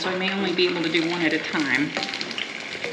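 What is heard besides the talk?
empanada frying in hot oil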